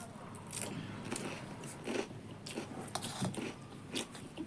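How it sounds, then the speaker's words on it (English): Someone bites and chews singju with green onion pakora up close, with scattered crisp crunches and soft wet chewing in an irregular rhythm and no talking. "so let's take a first bite"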